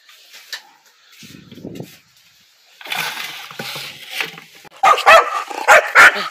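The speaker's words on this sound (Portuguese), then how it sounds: "É um cachorro." A dog brought back from an armadillo hunt gives several sharp, loud barks near the end, after quieter yips and whimpers and a stretch of silence.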